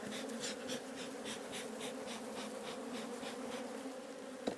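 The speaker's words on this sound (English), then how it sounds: "These bees are a little bit too mad." Agitated honeybees swarm around an opened hive box during an early spring split inspection, producing a steady, dense buzzing drone that stays fairly quiet yet constant, with individual bees zipping close now and then.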